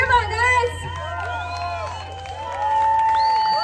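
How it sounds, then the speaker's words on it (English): Audience at an outdoor lumberjack show at the Medicine Hat Stampede cheers and claps, a steady crowd roar with whoops over a low hum, swelling louder toward the end. "Give them both a round of applause."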